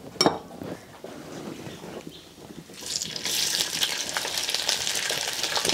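Bacon and chiles fry in a clay cazuela, a brief clatter giving way to a steady, close sizzle that swells after a few seconds and holds bright and continuous.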